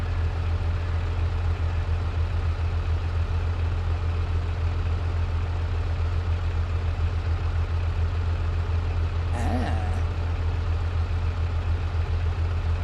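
A tractor engine idles steadily in a farming video game, a continuous low rumble carrying on alone for the full length with one brief higher chirp partway through.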